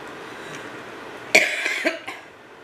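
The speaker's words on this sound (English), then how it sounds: "That's a cough, guys." A single sharp cough followed by a couple of smaller hacking bursts, close and clear against a quiet background.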